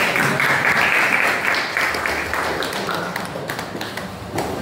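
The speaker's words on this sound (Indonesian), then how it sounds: "Boleh minta tepuk tangannya buat" An audience at an Indonesian school presentation claps in a steady, fairly close patter of many hands, holding a dense texture for several seconds before gradually thinning toward the end.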